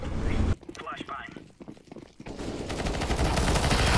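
Rapid automatic gunfire rattles loudly in a shooter game, breaks into scattered single shots, then builds into a sustained barrage again while players talk over it.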